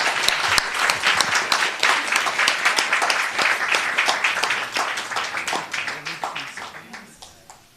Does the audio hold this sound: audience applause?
yes